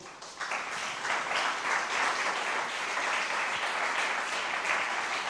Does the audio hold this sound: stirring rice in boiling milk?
no